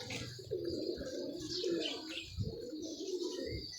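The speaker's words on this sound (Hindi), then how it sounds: "नीचे से कबूतर बहुत माशाल्लाह अच्छे बैठे हैं" Pigeons kept by a hobbyist coo softly and repeatedly from below, with a few light chirps mixed in. The low, rolling calls stay fairly quiet and even throughout.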